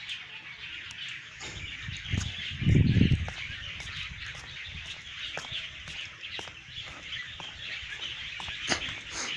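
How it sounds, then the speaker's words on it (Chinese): Birdsong fills a quiet morning walk near a temple, with frequent short chirps and tweets over a bright, steady chorus, while a brief low thump or rustle rises midway. "哇，鸟叫声，"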